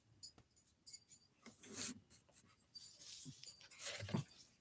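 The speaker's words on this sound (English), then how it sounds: "My dog was acting up." A dog shuffling and moving about indoors, with faint scratching, soft pattering and small whimpers that come in short, quiet bursts.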